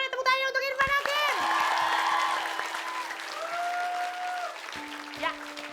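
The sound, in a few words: studio audience applause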